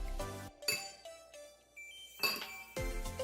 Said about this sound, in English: And then stir it all together.